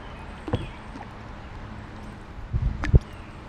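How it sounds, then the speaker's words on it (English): Kayak paddle strokes on the Brandywine River in Pennsylvania, a one-arm paddle giving a soft splash, then a busier cluster of dipping, splashing strokes near the end, close by over quiet outdoor background. "Get us over here a little, doing a one-arm paddle."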